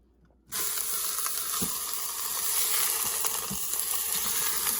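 A beef roast dropped into a hot Instant Pot on sauté with about a tablespoon of oil bursts into a loud, steady hiss of searing that stays constant, close and alone, with a few faint knocks.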